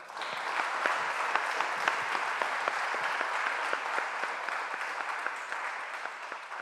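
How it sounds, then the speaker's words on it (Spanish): A large audience at a 2011 work-psychology conference gives Dr. Tomás Izquierdo sustained applause, a thick, even wash of clapping that holds steady for several seconds and tapers slightly at the end, with no speech. "Pedimos un fuerte aplauso para él."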